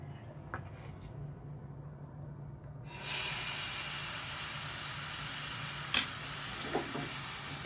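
Batter hits hot soybean oil in a kadai and breaks into a sudden, loud, steady sizzle that keeps going, with a few small pops and spatters on top.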